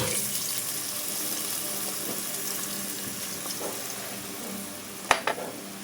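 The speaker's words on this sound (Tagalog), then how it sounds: "Lagyan po natin ng tubig." Water pours into a hot pan of fried tofu with a steady, loud sizzling hiss, followed by a couple of sharp metallic clanks near the end.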